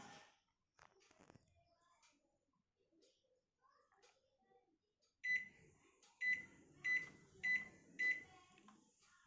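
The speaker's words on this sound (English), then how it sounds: "Press preheat button." An oven control panel lets out a series of five short, bright electronic beeps in quick succession as its preheat button is pressed, following a stretch of quiet kitchen handling noise.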